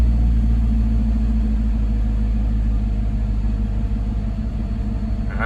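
A Mercedes C55 AMG engine settles into a deep, loud idle rumble right after starting, close and steady with slight fluctuations, with no voices over it.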